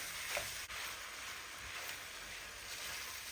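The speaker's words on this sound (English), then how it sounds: "you can start mixing those onions up in it" Onions fry in a pan with browning sausage for a pizza loaf, giving a steady close, dense sizzle with brief scraping as they are stirred in, continuous and even throughout.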